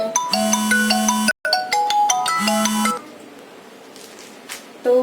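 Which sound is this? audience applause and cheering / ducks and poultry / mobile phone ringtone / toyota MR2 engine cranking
mobile phone ringtone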